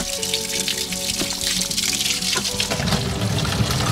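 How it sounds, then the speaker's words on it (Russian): Cold spring water splashes and gurgles steadily as it pours into a bottle, loud and close, the burbling shifting in pitch as it fills. "Давайте сейчас как раз водички наберем"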